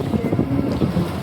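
An old sailboat motoring on a calm, windless sea, with a steady low engine drone mixed with wind rush and water noise, loud and close.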